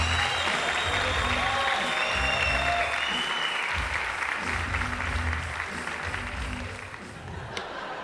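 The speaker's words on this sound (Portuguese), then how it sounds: "Então, uma salva de palmas para ele." Steady applause from an audience at a Brazilian comedy show, sustained for several seconds with shouts and cheering mixed in, then easing slightly toward the end.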